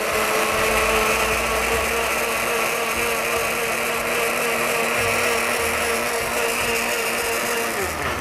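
A kitchen blender whirs at full power, blending an energizing juice, a loud steady motor drone with a churning wash that holds for the whole stretch with no voices.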